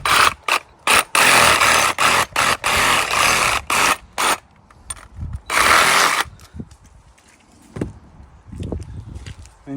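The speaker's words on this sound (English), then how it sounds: "we're gonna cut here and here with the Sawzall" A Sawzall reciprocating saw cuts through a hog carcass in a string of short, loud, buzzing bursts separated by brief pauses, followed by quieter handling knocks and scrapes.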